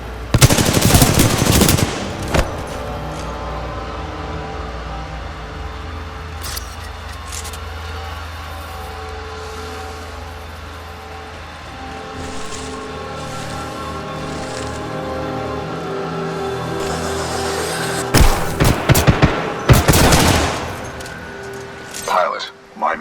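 Rapid machine-gun bursts and gunfire from a Titanfall 2 ambush, loud at the start, then easing into a rumbling vehicle drone before heavy firing returns near the end, with voices calling out over the action.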